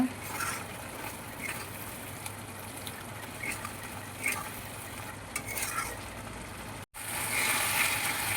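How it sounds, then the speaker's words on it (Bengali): Fish being stirred in a cooking pan, with soft repeated scraping and clinking of the utensil over a continuous sizzle, close, and a louder hissing burst near the end. "এবার মাছগুলোকে সামান্য পরিমাণে নাড়িয়ে নেব"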